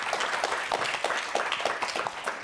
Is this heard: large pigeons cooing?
no